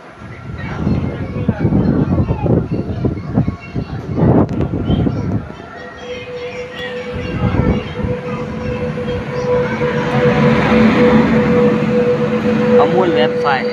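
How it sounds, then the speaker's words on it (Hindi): Bhavnagar–Botad passenger train pulling into Songadh station, a steady rumbling roll of wheels and carriages that grows louder and fills the second half, with a voice talking over the start. "भावनगर बोटा पैसेंजर ट्रेन एंटरिंग सोनगढ़"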